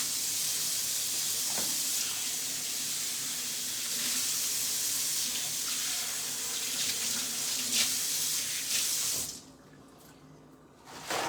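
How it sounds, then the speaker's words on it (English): Hands being washed under a running kitchen tap, a steady close hiss of flowing water with splashing that goes on for several seconds before the flow cuts back near the end. "I need to wash my hands again."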